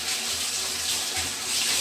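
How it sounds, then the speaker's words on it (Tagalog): Steady water pours nonstop into a toilet tank with the rubber flapper removed, a close, even hiss and gurgle with no talking. "dire-diretso ang daloy ng tubig kasi tinanggal natin ang rubber"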